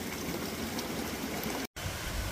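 McCoy Creek water rushes in a steady, even wash of noise beside an upper road in mineralized quartz country, with one split-second dropout near the end.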